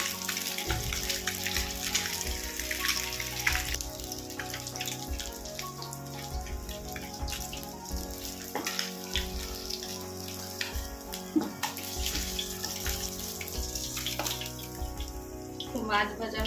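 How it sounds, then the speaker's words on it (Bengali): Pomfret fish fry in hot oil on both sides, giving a steady crackling, watery sizzle that runs throughout beneath background music. "দু পিঠ ভালো করে লাল করে ভালো করে ভাজতে হবে"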